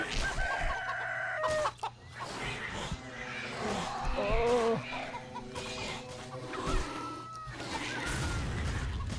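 Chickens in the CHKN video game cluck and crow repeatedly with loud, close squawks and rooster-like calls in an irregular rhythm. Game effects sound around them and brief bursts of noise break in.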